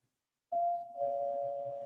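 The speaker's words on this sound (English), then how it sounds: "Let go of the doorbell, Jesse." A doorbell chimes as one sustained ringing tone, held on as the button is kept pressed, loud and close with a faint buzz under it, no talk.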